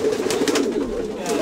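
Racing pigeons coo in a soft, continuous low murmur, with several overlapping birds close by and steady throughout, no talk over them.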